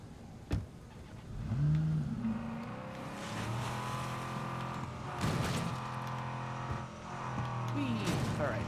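A car drives in State of Decay 2, its engine revving and accelerating with bumps and passing swells, while someone talks over it intermittently.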